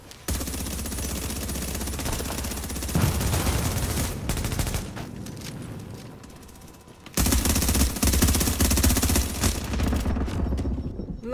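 Sustained automatic gunfire in The Division, a video game, during a tense team firefight: dense, loud rattling bursts that dip briefly in the middle and then return heavier, with no voices audible.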